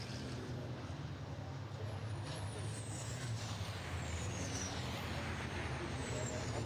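Six racing trucks circulate together at Brands Hatch, their engines making a dense, continuous roar at steady loudness with a faint high whine drifting over it, while a commentator talks underneath.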